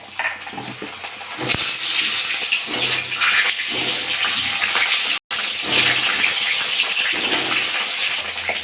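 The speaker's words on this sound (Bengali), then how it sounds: "আলুগুলো ভালো করে ভেজে নেব।" Potatoes frying in hot mustard oil in a kadai give a steady broadband hiss and crackle that runs close and loud for most of the stretch, broken by one brief drop to silence near the middle.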